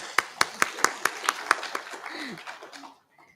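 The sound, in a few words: audience applause after a speech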